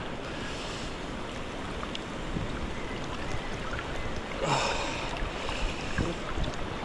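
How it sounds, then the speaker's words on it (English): Cold wind blowing through a valley, a steady broadband roar buffeting the microphone, swelling in gusts with a louder rush near the middle. "the wind coming through this valley is freezing"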